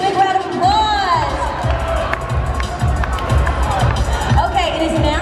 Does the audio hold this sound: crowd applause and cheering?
yes